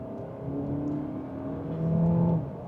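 Audi Q3 compact SUV engine pulling hard in second gear on the road, a steady rising drone with the pitch climbing near the end, heard from inside the cabin with no talking.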